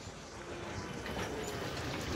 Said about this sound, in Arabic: هذا الترام ما أنا رايح له